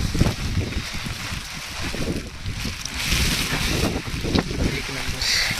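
Strong wind blows during heavy rain at Naneghat, buffeting the microphone with a continuous loud rumble while people talk nearby.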